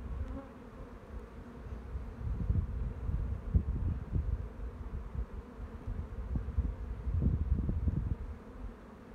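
A close swarm of honeybees hums around an opened hive during an early-spring inspection, a thick, wavering drone that rises in louder bursts as insects pass near, with no talking.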